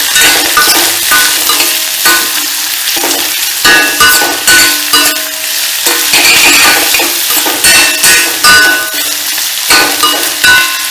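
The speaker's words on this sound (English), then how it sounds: "So I've added the onions and frying them nicely" Onions and garlic sizzle loudly in a hot pan for an Andhra-style green tomato chutney, with a steady bright fry broken by repeated scraping stirs and light clinks of the utensil.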